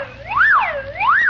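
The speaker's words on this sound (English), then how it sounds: "shut off the egg timer" An egg timer rings as a radio comedy sound effect, a continuous warbling tone that sweeps steadily up and down in pitch, fairly loud and alone, with no talk over it.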